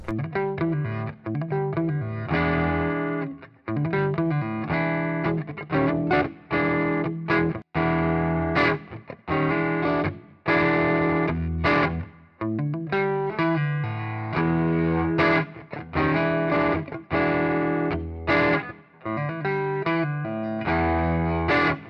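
Chugging palm-muted electric guitar with heavy distortion and effects, playing a choppy rhythmic riff with short pauses between phrases.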